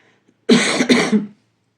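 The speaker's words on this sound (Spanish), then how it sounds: "Algo voy a toser" A single close, harsh cough burst with a brief second push, loud against an otherwise quiet background.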